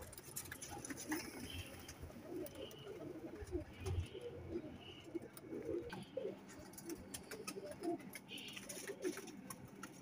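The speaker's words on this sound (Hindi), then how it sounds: "टैडी कबूतर बहुत अच्छा है" Teddy pigeons in a tree setting give soft, low repeated coos, fairly close, over a steady outdoor background with some chirping.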